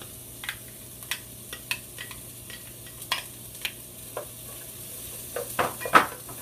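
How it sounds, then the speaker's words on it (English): White onions and garlic fry in a pan for a Peruvian lentil stew, giving a soft steady sizzle. A spoon scrapes and taps against the pan in irregular strokes that grow a little busier toward the end. "So now we're going to fry the onions with the garlic."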